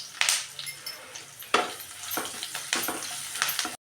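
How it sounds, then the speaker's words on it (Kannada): Spice masala frying in a pan for garlic rice, steady sizzle broken by sharp scrapes and clinks of a spoon stirring against the metal, close and loud with no talk. "ಇವಾಗ ನಾನು ಕೊಟ್ಟಿರೋ ಮಸಾಲೆ ಹಾಕಿಬಿಟ್ಟು ಇವಾಗ ಇದನ್ನು ಫ್ರೈ ಮಾಡ್ಕೊತೀನಿ"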